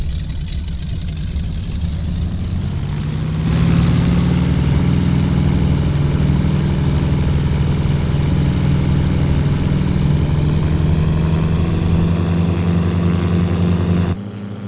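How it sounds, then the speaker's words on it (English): The radial engine of a Granville Gee Bee Model R Super Sportster race plane in Flight Simulator X starts up and rises to a steady, loud, droning run that continues throughout, with no talk. "Let's go ahead and power up our engine."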